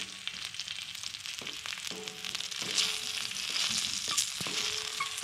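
Chillies fry in a hot pan for peanut chutney, a continuous close sizzle and crackle with occasional stirring scrapes and soft clinks throughout.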